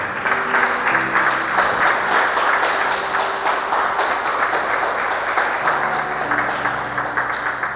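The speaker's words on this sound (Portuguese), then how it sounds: "Vamos dar uma salva de palmas ao Senhor." Congregation at a church service claps together in loud, continuous applause, with an instrument holding sustained notes underneath.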